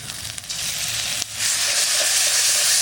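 Ground spices, including cumin, coriander, dried chili and turmeric, sizzle and fry in a pan for a duck egg curry with potatoes, a loud close hiss that briefly dips and then swells stronger as the mixture is stirred.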